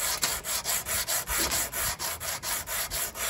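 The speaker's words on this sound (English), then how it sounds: "I'm going to take my small leveling beam with 80 grit sandpaper on it and just kind of level everything out." Steady back-and-forth rasping of 80 grit sandpaper on a small leveling beam drawn across a wooden electric guitar body, about a dozen even strokes in a regular rhythm, close and loud, with no talking.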